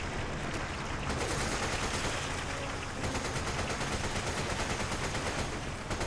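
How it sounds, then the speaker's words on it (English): Rapid, continuous machine gun fire from the Resident Evil 5 video game, loud and dense with steady bursts running for the whole stretch, no talk over it. "Finally, the machine gun pays off."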